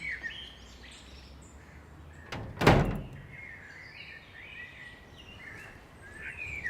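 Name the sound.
door opening as a visitor comes in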